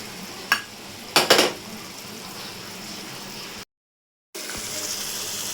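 Yogurt-laced masala for prawn malai curry stirred and fried in a pot, with a few sharp metal spoon clanks against the pan over a steady low sizzle, broken by a brief silent gap.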